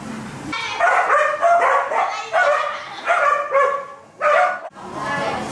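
Several dogs at a Bangkok dog cafe bark and yip in repeated excited bursts as vets arrive for an annual checkup, loud and close, with voices mixed in among the barking.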